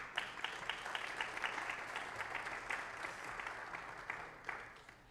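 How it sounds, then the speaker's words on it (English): Audience applause for a student life director at a Texas attorney general candidate debate, steady crowd clapping that holds for several seconds before tapering off near the end. "make sure you give them a round of applause for being here today"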